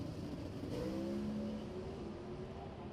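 A drag racing car's engine roars steadily as it accelerates down the track, a dense, loud mechanical drone heard alone and without talk.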